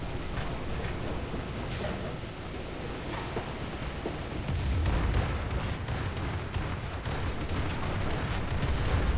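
A naval gun in War Thunder fires high-explosive rounds in a dense, rumbling barrage of blasts and crackling bursts that grows louder partway through, like heavy gunfire mixed with thunderous booms, with no talking.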